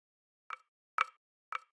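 Lo-fi percussion sample in FL Studio, panned hard left, struck three times at an even half-second spacing, each a short dry plop-like hit with a quick decay.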